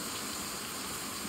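Steady monsoon rain pours down in a Konkan village, a constant soft wash of falling water with no talking over it.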